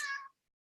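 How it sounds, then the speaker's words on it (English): A single short, clear cat meow indoors, close and fairly faint, fading quickly into silence. "that's my cat"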